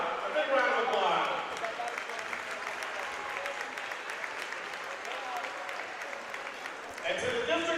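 A high school basketball crowd applauds the St. Paul Wildcats after a district final against Wahoo, a broad sustained wash of clapping in the gym, with an announcer's voice at the start and end.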